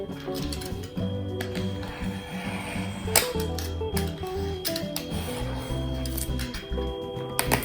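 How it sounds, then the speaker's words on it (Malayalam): Packaging of a DJI Osmo Mobile 2 gimbal is handled close up, with crinkling plastic, soft rustles and a few sharp clicks and snaps, and no talking. "അപ്പം നമ്മുടെ ഓസ്മോ മൊബൈൽ 2 നമുക്കൊന്ന് അൺബോക്സ് ചെയ്ത് നോക്കാം കേട്ടോ."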